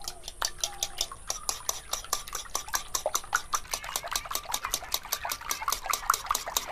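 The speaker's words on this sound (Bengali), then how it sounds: "ডিমটাকে আমি খুব ভালো করে ফেটে নিয়েছি" Five eggs with ghee being whisked briskly in a bowl make a fast, even run of light metallic clicks and taps, close and continuous, with no talking.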